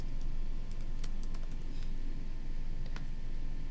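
Notes being typed on a computer keyboard, quiet irregular key taps over a steady background hiss.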